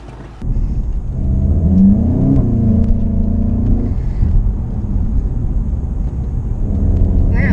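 Volkswagen Golf in sport mode pulling away, its engine rising from idle into a loud, steady rumbling drone that climbs in pitch then holds, heard close from inside the car with no talking.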